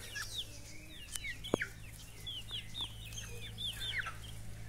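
Chickens clucking softly and steadily while pecking at rain-burned coriander on a farm, repeated short clucks over a constant low background hum, with one sharp knock partway through.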